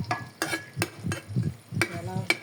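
Garlic frying in hot oil in a pan for simple egg fried rice, a close, crackling sizzle broken by repeated spatula scrapes and taps in an uneven rhythm.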